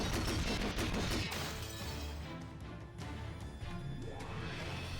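Shotgun firing in the video game Rose Guns Days, a dense loud barrage of blasts and crashing impacts, thinning slightly before continued rapid gunfire and a rising whine.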